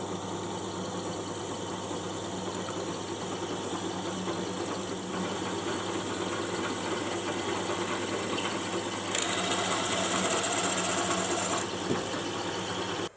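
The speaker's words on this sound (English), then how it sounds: "now I've done all the M4 threads, I'm going to do the M3 threads" A Tormach CNC mill tapping M4 threads hums steadily at low level, with a brief higher whine partway through and a small clunk near the start, and no voices.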